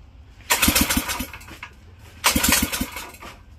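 Two close, loud cranking attempts from a Predator 212 engine swapped into a John Deere 110 garden tractor, each a rapid pulsing churn of the starter, separated by a brief lull, with no talking.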